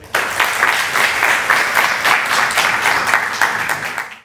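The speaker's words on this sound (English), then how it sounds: "So please, a round of applause for Peter." Audience applause at a tech conference talk on testing infrastructure as code, a dense steady burst of many hands clapping that rises quickly, holds for about four seconds and tapers at the end, with no voices over it.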